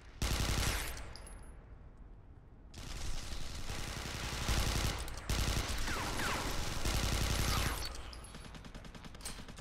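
Sustained rattling gunfire in the sci-fi shooter Interstellar Marines, dense overlapping bursts rolling on almost continuously at a fairly low level, with a short lull early on.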